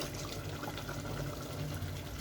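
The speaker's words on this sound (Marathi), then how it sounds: "हे थोडं मिक्सर धुतलेलं पाणी पण मी इथे घालून घेते" Rinse water from a mixer jar is poured into a pan of dhaba-style chicken curry, a soft continuous splashing trickle, close and steady, with no talk.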